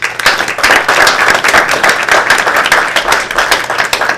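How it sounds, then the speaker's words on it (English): An audience claps for a conference panel, steady dense applause filling the room at close range without a break. "let's get a nice round of applause for our panel"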